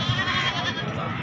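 A goat bleats at a bakra mandi livestock market, one drawn-out, loud, close nasal cry.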